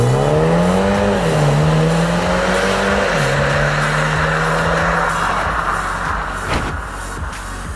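A BMW M135i's engine pulls hard on a test drive, its loud tone climbing through the revs, dipping at gear changes, then rising again before easing into steady cruising road noise.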